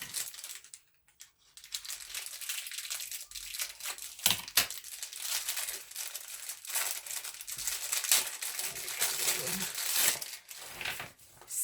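Plastic packaging around a Guess bag is cut and pulled open, giving close, irregular crinkling and rustling with sharp snips and crackles scattered throughout.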